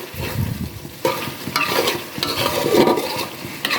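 Pieces of broiler chicken fry in a pan while being stirred, a close, loud sizzle with repeated scraping strokes and clattering of the spoon, no one speaking.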